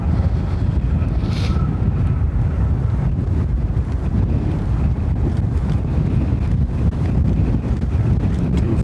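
Strong gusting wind at Dublin Airport roars steadily across the microphone, a loud continuous rushing buffet with no speech, heard during high-wind plane arrivals.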